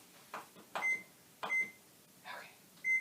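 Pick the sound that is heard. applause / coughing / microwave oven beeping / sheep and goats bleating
microwave oven beeping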